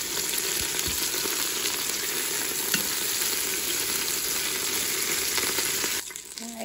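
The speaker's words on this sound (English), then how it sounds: "you can move it around a little bit so it doesn't stick, just to mix up that butter and oil" Chicken pieces fry in butter and oil inside a Ninja Foodi, a loud, dense, steady sizzle with occasional scrapes as they are moved around, dropping off sharply near the end.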